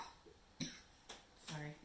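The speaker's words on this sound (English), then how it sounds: "Sorry, it's me coughing." A few short, muffled coughs spaced out over a quiet, noisy background, faint and close.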